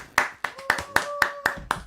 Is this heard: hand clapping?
yes